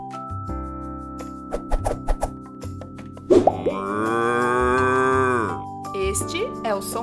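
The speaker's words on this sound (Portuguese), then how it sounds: "Este é o som da vaca e ela vai mugir outra vez." A cow lets out one long, loud, drawn-out moo in the middle, set among soft clicks and plops before and after, close up with no talking.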